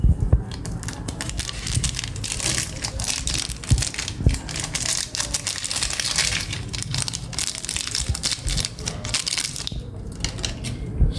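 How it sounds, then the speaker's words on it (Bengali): Cauliflower florets are tossed and mixed by hand with Maggi masala, giving a continuous close-up crunching and crackling with irregular sharp clicks throughout. "ফুলকপিগুলোকে আমি হালকা ম্যাগি মশলা দিয়ে মেখে নেব।"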